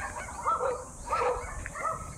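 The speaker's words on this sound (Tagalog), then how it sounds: "Tinatahol ako ng aso." A dog near an old house barks in three clear, evenly spaced barks at moderate distance, over faint outdoor background noise.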